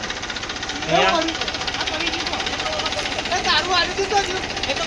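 A tractor's diesel engine chugs steadily with a rapid knocking rhythm, loud and close, as people talk over it.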